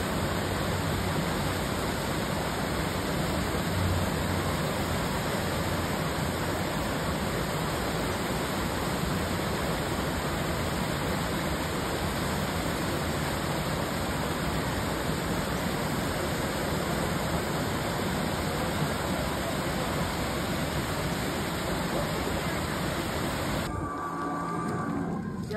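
A small waterfall at Calgary Zoo overflows with water, giving a steady, loud, broadband rush that stays constant for nearly the whole stretch before cutting off abruptly near the end.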